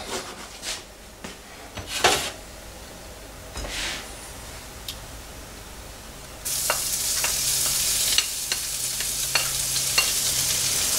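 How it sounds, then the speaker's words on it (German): Sliced meat strips frying in oil in a pan, with a few stirring scrapes and knocks before a steady, bright sizzle starts and carries on close up. "Jetzt machen wir das Geschnetzelte. Und dann brate ich das."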